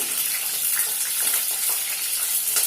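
Green chillies frying in hot oil on a stove at medium heat, for a chilli pickle, give a steady, close, bright sizzling hiss with small crackles throughout.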